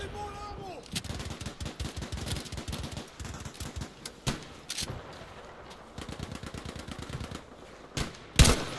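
Rapid bursts of gunfire crackle in repeated volleys in a Battlefield V alpha match, with sharp louder single shots cutting through near the end.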